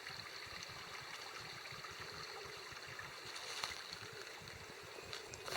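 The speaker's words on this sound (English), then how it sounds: "here's one of the stream crossings. Just sounded cool, so I thought I'd get a video." A stream flows at a hiking trail crossing, a faint, steady rush and gurgle of water heard from some distance with no other sounds on top.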